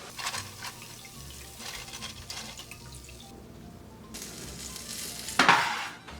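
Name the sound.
homemade tortilla chips frying in hot oil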